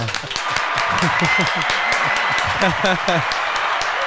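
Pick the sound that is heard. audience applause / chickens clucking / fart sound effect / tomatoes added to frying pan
audience applause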